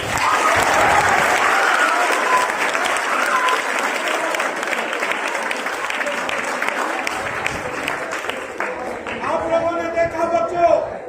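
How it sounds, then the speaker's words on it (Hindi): Children at a fire safety demonstration applaud with dense, sustained clapping that stays loud throughout, then thins out as a voice speaks over it near the end. "ताली लगाओ बच्चों के।"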